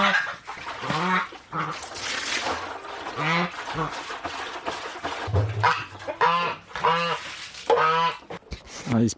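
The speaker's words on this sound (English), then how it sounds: "I'm gonna do these chickens since we're here." Backyard chickens on a homestead cluck and squawk close by in repeated short, harsh calls, mixed with bursts of quieter human voices throughout.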